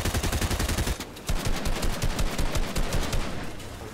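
Rapid gunfire from a competitive Fortnite Creative Zone Wars match, dense bursts of shots rattling almost continuously with a brief lull near the start, loud and close.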